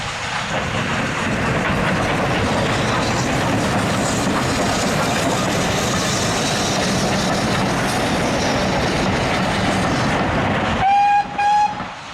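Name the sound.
locomotive 70013 Oliver Cromwell arriving at station with train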